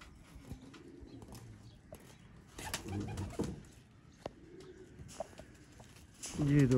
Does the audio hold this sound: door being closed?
no